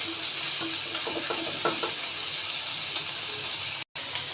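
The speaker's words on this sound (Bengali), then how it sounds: "এখন মাছগুলো আমি একবার উল্টিয়ে দেব ছোটো মাছ যেহেতু ভেঙে যাবে সেই জন্য আমাদের আস্তে আস্তে নেড়ে ছেড়ে দিতে হবে" Small fish fry in a pan with a constant crackling sizzle while a utensil gently turns them, a few soft scraping taps sounding over the hiss before a brief cut.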